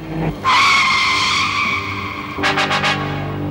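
A car brakes hard to a stop, its tires skidding in a loud, sustained screech. A few short squeals follow as it settles.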